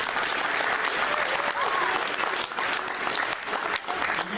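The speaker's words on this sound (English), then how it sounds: "Can we give each other a big round of applause?" An awards ceremony audience claps continuously, a dense, loud wash of applause filling the room from start to end, with faint cheers and voices mixed in.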